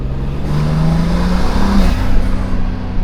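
Turbocharged car with a front mount intake, engine revving loud and close as a faint rising turbo whine spools up over the exhaust drone.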